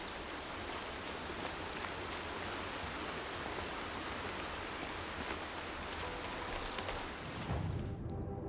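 Steady rain in the video game Horizon Zero Dawn, a dense continuous hiss of falling water that holds evenly throughout before cutting off abruptly near the end, with no voices.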